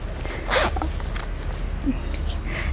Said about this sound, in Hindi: ये ज़िप दिया गया है तो लॉक के लिए।